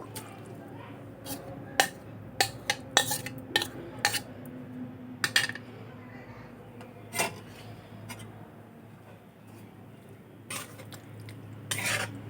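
Metal utensil scraping and clinking against a kadai on a gas stove in a quick irregular burst while stirring a raw mango laddu mixture, then quieter rubbing strokes with a few more clanks near the end.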